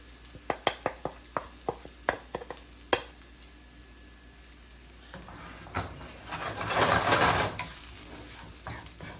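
Spices for chicken tikka masala toasting in a pan: a run of crisp spoon taps and scrapes against the pan, then a loud swelling sizzle as the stirring continues.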